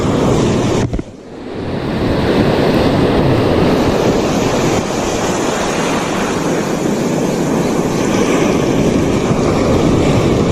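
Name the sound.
sea waves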